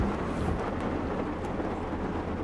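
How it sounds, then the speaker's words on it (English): Steady rain falls outdoors, a dense, even hiss with low rumbling underneath that holds at the same level throughout, with no voices heard. "and it's raining out. Rain, rain, rain."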